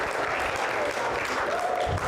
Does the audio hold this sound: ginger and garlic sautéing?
no